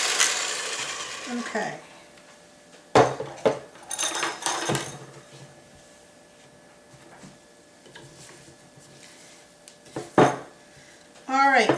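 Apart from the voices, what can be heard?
mixing butter and sugars until creamy for cookies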